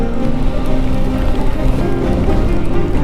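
A waterfall along the Lysevegen road near Lysebotn in Norway roars as a loud, steady, broadband rush of falling water during stormy weather, constant throughout with no pauses.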